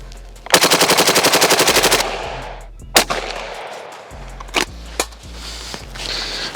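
A Nylaug AUG-style bullpup rifle fires a rapid, loud burst of about fifteen shots, followed by a few isolated single cracks spaced a second or so apart, with mechanical handling noise between.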